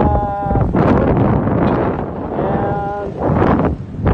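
Gusty wind buffets the microphone with rumbling bursts that rise and fall near the Panguil Bay Bridge in Mindanao, while a voice speaks faintly underneath.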